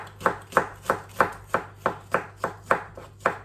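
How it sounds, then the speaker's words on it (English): A knife chops onions and garlic steadily on a cutting board, about ten sharp, evenly spaced strikes with a faint steady hum underneath. "now that our onions and garlic are chopped"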